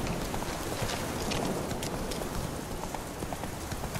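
In The Witcher 3, the horse Roach gallops with rapid, rhythmic hoofbeats, close and steady over a continuous bed of wind and ambient game noise.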